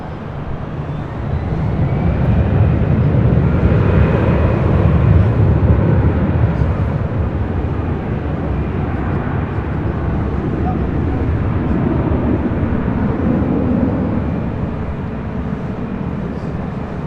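An Avianca A320 in the Taca retro livery on runway 24 Left at LAX gives off a loud, steady broadband jet roar that swells early, then holds as a sustained rumble for the whole stretch.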